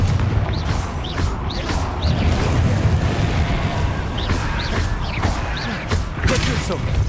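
Fiery Confringo spell explosions in Hogwarts Legacy: a sustained crashing, booming roar with repeated impacts and crackling bursts, loud and close throughout, with speech-like sounds mixed in.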